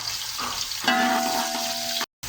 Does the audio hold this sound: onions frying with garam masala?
yes